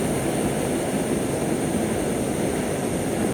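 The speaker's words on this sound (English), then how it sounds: "this thing sounds like a jet engine when you use it." A backpacking stove burns with a loud, continuous jet-engine-like roar, a broad steady hiss that holds unchanged before cutting off abruptly at the end.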